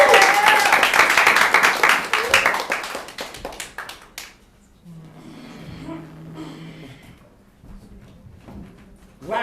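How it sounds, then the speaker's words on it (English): A studio audience breaks into loud, dense applause and cheering that fades out after about four seconds, leaving quiet room sounds and faint voices. "Let's give it a big round of applause."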